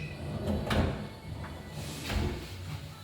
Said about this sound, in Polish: Jednym frontem otwieramy dolną szufladę, następnie mamy szufladę wewnętrzną